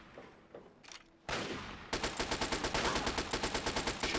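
Automatic gunfire in Fallout 3 fires a steady, rapid burst of loud, evenly spaced shots after a few scattered single reports and a brief rush of noise.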